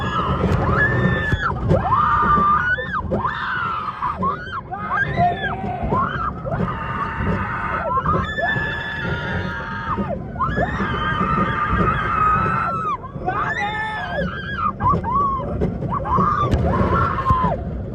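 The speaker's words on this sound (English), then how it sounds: "this is just us screaming." Riders screaming together on a thrill ride at Six Flags Over Texas, with rising and falling shrieks that come in repeated loud bursts over constant rushing ride noise for the whole stretch.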